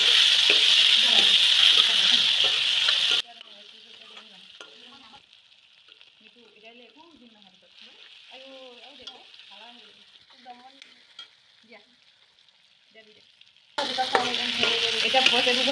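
Tomatoes frying in a pan with turmeric, a loud steady sizzle that drops away for a long stretch of quieter stirring and scraping, then returns at full strength.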